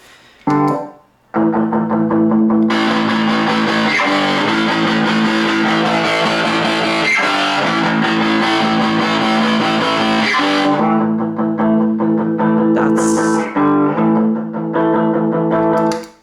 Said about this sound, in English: let's try the Mega Distortion.